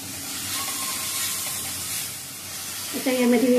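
Onion fries in a pan for arbi bhaji with a soft, steady hiss and sizzle, and a short voice breaks in near the end.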